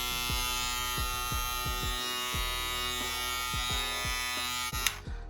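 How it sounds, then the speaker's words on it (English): A Kiepe Twice Finish foil shaver runs close up with a steady electric buzz and hum, a rhythmic series of low thumps pulsing through it, ending with a brief sharp clatter. "So this is not the most quiet shaver, but this is not too loud at all"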